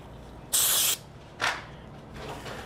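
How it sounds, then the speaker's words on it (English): Two short hissing bursts of brake cleaner spray onto a transfer case surface, the first about half a second long and the second briefer, followed by a softer faint hiss, close up with no talking. "I'm going to use a little brake cleaner and wipe down this surface"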